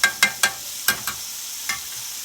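A utensil stirs a tablespoon of garlic frying in a pan for supper, giving about six sharp scraping clicks at an uneven pace over a faint sizzle.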